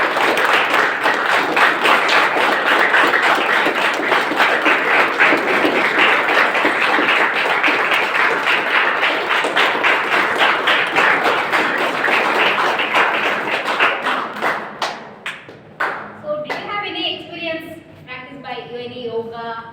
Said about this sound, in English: clap is very important